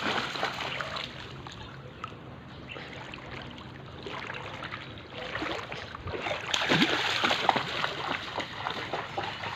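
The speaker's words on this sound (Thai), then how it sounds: "น้ำทะเลหนุนขึ้นสูงน้ำทะเลหลาก" Seawater from a high tide floods into a coastal village at Mae Klong, Samut Songkhram, Thailand, with continuous sloshing and splashing water that swells louder and rougher toward the end, no talk.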